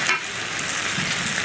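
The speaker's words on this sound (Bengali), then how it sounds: "একদম ভাজা ভাজা করে নিলাম" Aman rice and jackfruit seeds fry in a pan for khichuri, giving a brief, soft, continuous sizzle with light stirring and no voices.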